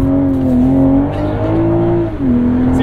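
A 2023 BMW Z4 M40i roadster driven hard, its engine loud and near, revving up and down in smooth sweeps as it accelerates through gears with no talking.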